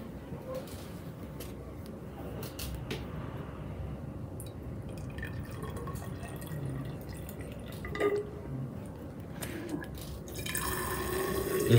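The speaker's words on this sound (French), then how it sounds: "on va mettre 20 ml d'eau dans chaque éprouvette." Water is poured into graduated cylinders, filling them to about 20 millilitres, with soft trickling and dripping against glass and a few light clinks, steady and close throughout.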